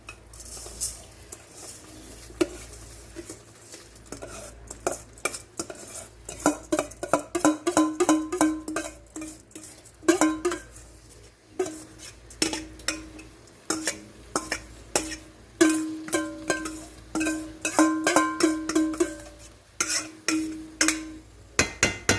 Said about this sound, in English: Now we're going to put our rice in there.